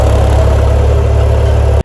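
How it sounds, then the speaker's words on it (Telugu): A tractor engine runs loud and close while mulching a field on a natural farm, with a constant low, throbbing drone that holds steady before cutting off abruptly at the end. "ఈ ట్రాక్టర్ తోటి ఫస్ట్ బాగా మల్చింగ్"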